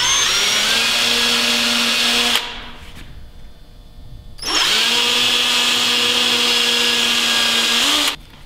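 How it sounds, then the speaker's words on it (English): A power drill pre-drilling holes in a wooden toboggan runs in two long, loud, steady whines close by, separated by a short pause. "So we're going to pre-drill these 2 because they'll have the normal screws in them."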